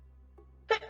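A single short, sharp sneeze from a person on a voice call, brief and fairly quiet after a moment of near silence.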